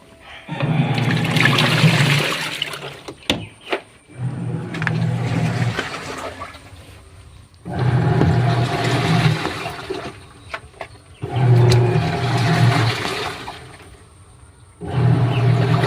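A Sharp automatic washing machine fills and agitates its load, with loud, rhythmic bursts of churning, sloshing water that repeat every few seconds, separated by brief quieter pauses, close by and without talk.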